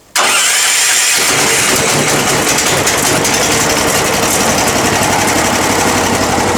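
A brief starter crank, then a Permazoute 8000 wood chipper engine catches and roars into a loud, steady mechanical running noise that continues without pause.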